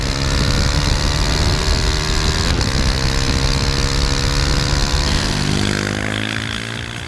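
A 2017 KTM RC390 motorcycle engine with a Euro 4 exhaust runs hard and loud at high revs, a steady throaty drone held close for several seconds before easing slightly at the end.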